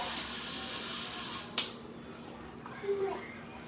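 Tap water runs steadily into a sink indoors, a soft continuous hiss with a few brief splashes and a child's faint babble in the background.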